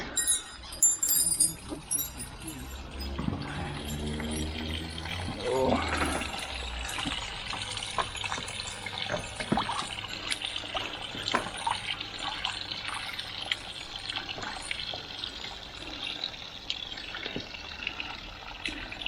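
A Shusui koi is lowered back into pond water after sedation, with irregular splashing, sloshing and trickling water close by, loud at first and then settling into softer lapping, with some speech mixed in.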